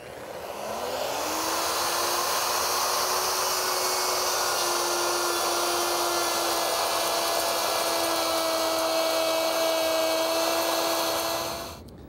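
A router fitted with a half-inch rabbeting bit cuts half-inch MDF, spinning up with a rising whine and then holding a loud, steady high-pitched scream for about ten seconds before winding down.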